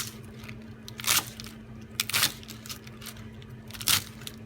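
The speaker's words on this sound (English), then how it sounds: "Even like when you're making like a kale salad, I like to chop it up finely like this." Kale leaves being thinly sliced for Portuguese kale soup, three distinct crunchy knife cuts through the greens spaced about a second apart, close by over a low steady hum.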